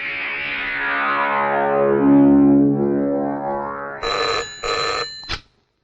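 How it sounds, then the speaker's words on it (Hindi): A telephone rings during a phone call in a Hindi film scene: a long swooping electronic tone is followed by two short bursts of bright, bell-like ringing, loud and close, with no talk. "जा जल्दी शीला के बाप को फोन कर दे।"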